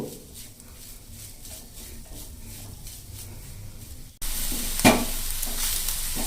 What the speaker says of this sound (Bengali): এই সময় গ্যাসের ফ্লেমটা একটু লো করে দেবো, দিয়ে আমরা একটু নেড়ে নেব।